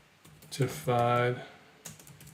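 Short bursts of clicking on a computer keyboard while entering an answer in a Revit certification practice exam, close and crisp, with a brief voice sounding between the keystrokes.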